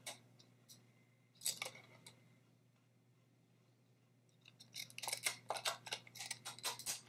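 Small scissors snip through card stock in quick, crisp clusters of close cuts, a brief burst early on and a longer run of rapid snipping near the end, with no one talking.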